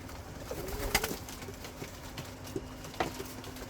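Racing and wild-type pigeons at a small hobby pigeon farm give soft, low coos and light fluttering over a quiet background, with faint scattered thumps.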